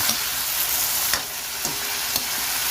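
Tomatoes being stirred in a sizzling pan while sautéing for a bitter melon (ampalaya) dish, a steady fry hiss with a few soft scraping strokes, close and alone without talk.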